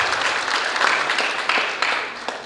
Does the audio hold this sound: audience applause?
yes